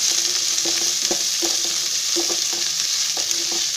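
Finely chopped onion frying in hot oil with cumin and mustard seeds for shevaiya upma makes a steady loud sizzle, broken by rhythmic scraping stirs of a spoon against the pan, with no talk.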